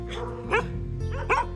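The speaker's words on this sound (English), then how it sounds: "In other words, the Portuguese water dog." A Portuguese water dog barks, two loud close barks about three quarters of a second apart, each with a short lead-in yip, over a low background hum.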